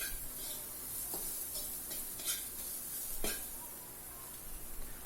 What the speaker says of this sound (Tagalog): lagay naman natin yung bawang. Ayan. Tapos igisa lang rin natin.